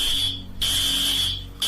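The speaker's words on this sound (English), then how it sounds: "The smoke from the gunfire triggered the fire alarm" School fire alarm sounding in loud, steady high-pitched bursts, cut by brief gaps, with a low hum underneath.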